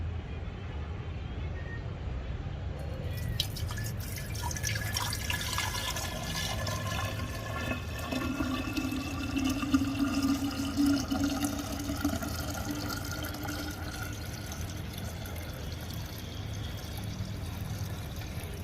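Freshly extracted pure jamun juice pours into a glass jar as a steady, soft trickle and splash. It runs continuously and fairly quietly, with no voices over it.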